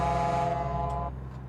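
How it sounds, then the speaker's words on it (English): Modded truck horn in American Truck Simulator blaring a loud, sustained multi-tone chord for about a second, then cutting off, leaving lower engine drone underneath. "I've got a mod that changes the default horn sound to this."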